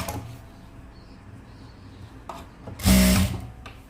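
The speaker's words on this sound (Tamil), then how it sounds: "மேலே இருக்கிற பீஸை இழுத்து கீழே இருக்கிற பீஸை லூஸ் விட்டு தைங்க." A sewing machine stitching a sleeve gives a short, loud mechanical whir near the end, after a quieter stretch of low rattling and handling noise.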